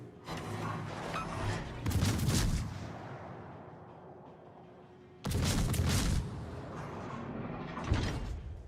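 Torpedo hits on a warship in World of Warships, heard as two loud, rumbling explosion bursts a few seconds apart, each with a long, heavy decay and a background din of battle.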